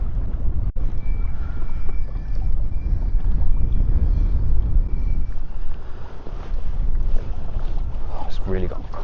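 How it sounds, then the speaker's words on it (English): Bitter, gusting wind sweeps across a lake at a carp fishing match, a steady broadband rush with buffeting against the microphone that runs the whole time, and a few soft incidental knocks near the end. "that wind's picked up a bit. Real bitter wind that is."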